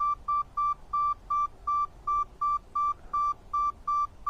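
A metal detector sweeping a garden plot emits a steady pulsing beep, about a dozen evenly spaced tones at a regular rhythm over faint background noise.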